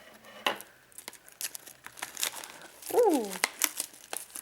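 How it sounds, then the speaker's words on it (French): Scissors snip and crinkle the plastic wrap of a Pokémon booster display, close and sharp, with one brief exclamation partway through. "Je prends ma paire de ciseaux"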